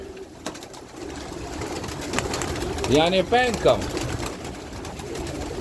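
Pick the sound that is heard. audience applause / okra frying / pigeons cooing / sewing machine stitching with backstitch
pigeons cooing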